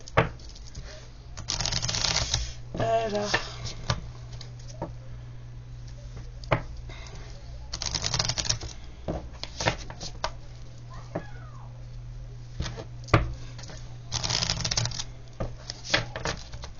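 Tarot cards being shuffled and fanned out, soft riffling bursts that recur every few seconds amid light taps and handling clicks at close range, faint and intimate.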